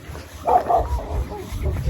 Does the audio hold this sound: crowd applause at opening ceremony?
no